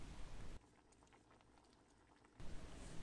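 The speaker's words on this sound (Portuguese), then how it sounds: "O ponto também será quando essas bolhas da calda diminuírem. Ela demora mais para estourar as bolinhas." Thick papaya syrup for candied papaya bubbles softly in a pan, with faint, scattered pops and gurgles over a quiet stretch framed by louder background hiss.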